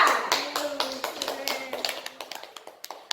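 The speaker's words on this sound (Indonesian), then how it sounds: "Kita kasih tepuk tangan untuk kelompok Ica." Students applaud a classroom group after its presentation, a brief, thin round of clapping from a small group that starts strong and quickly thins to scattered claps, with a voice heard faintly at the start.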